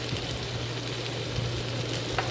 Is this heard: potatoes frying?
yes